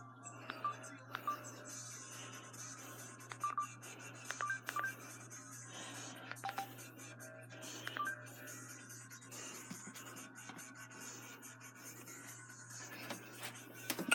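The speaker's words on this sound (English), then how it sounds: "Just going to answer my phone here real quickly. See who texted me." A mobile phone handled at close range to read a text, giving a faint scatter of soft taps and keypad beeps over a low steady hum, quiet and intermittent.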